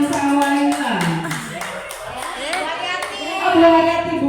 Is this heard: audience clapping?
yes